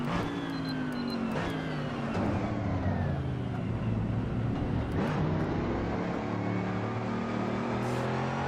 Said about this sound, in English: Alright, let's try and race this Ferrari.